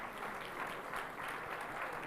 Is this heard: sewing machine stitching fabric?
no